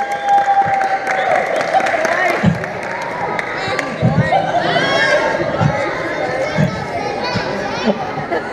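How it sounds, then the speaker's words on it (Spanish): A game-show style audience at a prize reveal breaks into a burst of applause mixed with chatter and cheering voices, lively and close, filling the whole stretch with people talking over it. "¡Aplausos!"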